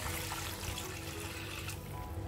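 Water pours steadily into a cooking pot of rice for kuska rice, a continuous close gushing trickle that thins slightly near the end.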